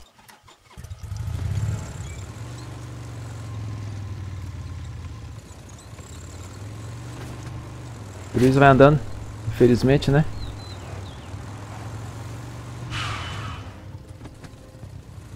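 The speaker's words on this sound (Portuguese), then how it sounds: "Bora de moto mesmo, vai." A motorcycle ridden in the video game Far Cry 6, a low steady engine drone running throughout with a brief rev early on, while someone talks over it in short bursts.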